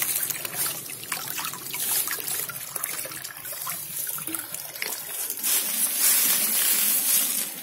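Water trickles and splashes from an old village fountain built in 1992, a steady close stream that grows louder toward the end, as though hands are being washed in it, with no talk.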